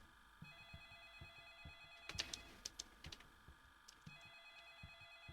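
A telephone rings faintly in a dark house in a horror video game, bursts of bright electronic ringing over a quiet low background with scattered soft thuds.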